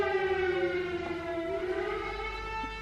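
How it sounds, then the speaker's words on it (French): Air raid siren sounding alone, a long sustained wailing tone with a slow pitch drift and rich harmonics, steady and moderately distant, no talking. "voilà le son des sirènes, des alertes aériennes"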